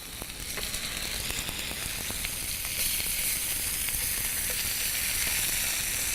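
Small pieces of sculpin fish sizzle in hot olive oil, giving a steady, close, bright frying hiss with scattered light pops and crackles that slightly intensifies midway; no voices.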